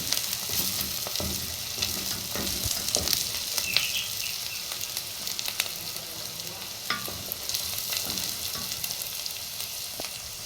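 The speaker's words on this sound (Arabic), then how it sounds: "نخلينا هنا بقى مع البصل والجزر اللي باين ان هو محروق" Onions and carrots frying in a pan, slightly burnt, give a constant crackling sizzle broken by frequent spatula scrapes and taps, close and fairly loud, with no speech.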